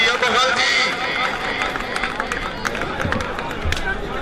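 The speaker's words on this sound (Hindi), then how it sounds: "मुगल ने ला दिया जोरदार तालियां" Crowd at a kabaddi match cheering and clapping, a loud dense hubbub of many voices and applause close around, with shouts rising over the noise throughout.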